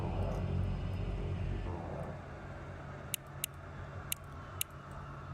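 Twin turboprop engines of an EMB-110 in Microsoft Flight Simulator, parked in Iceland after landing, spool down. A steady low rumble fades quietly, with a few sharp cockpit clicks near the end.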